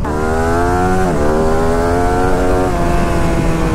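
A Ducati Streetfighter V2 naked superbike accelerates hard, its loud, continuous engine note climbing steadily in pitch, dropping briefly at two gear shifts, then rising again; no speech over it.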